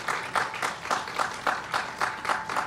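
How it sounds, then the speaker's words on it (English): An audience at a sickle cell awareness illumination ceremony at City Hall claps in a brief burst of rhythmic, fairly close applause with a regular beat, no speech over it. "So could you give yourselves a round of applause on tonight?"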